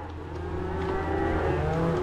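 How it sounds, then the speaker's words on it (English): Cattle being herded up a road outdoors, lowing in long drawn-out moos that overlap under steady broadband ambient noise. "Cows are moving up the road pretty good, though."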